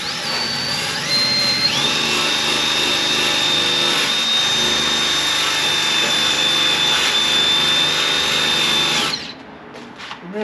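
A power-driven wire wheel scours car body sheet metal to expose spot welds, making a steady, loud, high-pitched whine with a gritty scrubbing texture for about nine seconds before it cuts off abruptly.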